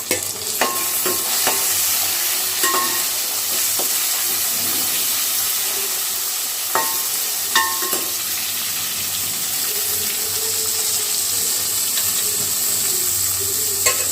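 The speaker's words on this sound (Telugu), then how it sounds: "ఫ్రై చేసుకోవాలి బాగా." Onions and tomato fry in a pan for a fish curry, a steady loud sizzle running throughout with occasional clinks and scrapes of stirring, no voices.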